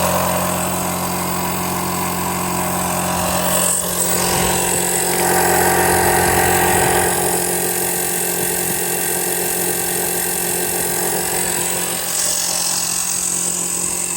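A Wolf Box cordless air compressor inflates a 35-inch Jeep Wrangler tire with a loud, steady mechanical drone and buzz. It runs continuously throughout, with small shifts in tone.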